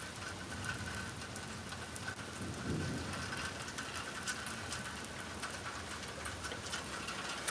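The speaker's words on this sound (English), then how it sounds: "we can't go too far because it's raining yet again" Steady rain falls outdoors, a broad continuous hiss with scattered droplet patter, moderately loud and unbroken, with no voices.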